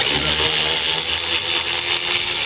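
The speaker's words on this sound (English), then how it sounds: "It's a ratchet." A ratchet works loose a bolt on a Ford Model A transmission tower, giving steady close-up metallic rasping and clicking with no pause throughout.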